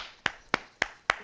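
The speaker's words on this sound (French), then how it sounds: "Je suis tout seul à m'applaudir." A single man claps for himself four times at an even, quick pace, each clap sharp and close with nothing else heard.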